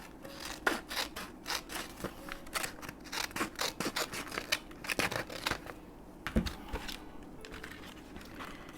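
Scissors trim a strip off a sheet of paper for a journal page, making close, quiet, rhythmic snips and rustles repeated across several seconds with no talking.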